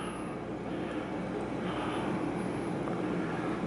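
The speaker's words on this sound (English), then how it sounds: "I can rotate the aircraft." A DJI Phantom 4 Advanced drone in flight gives a steady, unbroken whirring hum with broad noise, constant in loudness throughout, with no speech.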